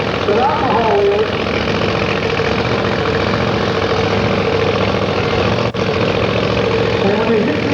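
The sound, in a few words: alcohol funny car engine idling at drag strip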